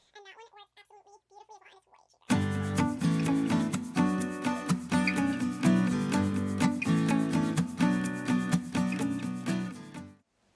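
A makeup brush sweeps Hourglass Veil Translucent Powder under the eyes, giving a close, soft, steady rhythmic scratching and rubbing that runs for several seconds.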